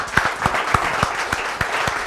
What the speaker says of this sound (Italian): Un applauso allora.